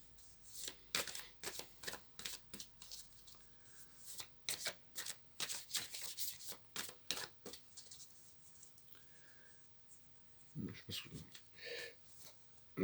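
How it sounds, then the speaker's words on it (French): Tarot or oracle cards shuffled by hand before a draw, a quick series of crisp riffling and slapping bursts, close and fairly quiet, with brief pauses between runs. "je tirais quelques cartes"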